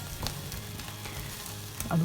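Black fried rice with egg is stirred in a hot pan, sizzling steadily with soft scraping from the spatula, loud and close throughout.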